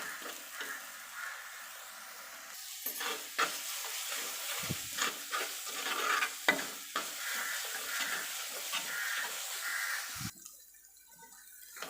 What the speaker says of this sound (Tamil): முழுசாக போட்டு வதக்கிக்கலாம்.